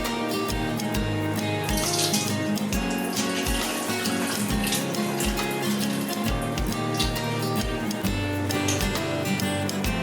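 Milky rinse water drains off washed sushi rice, a close, continuous pour and splash into a sink with small irregular gurgles.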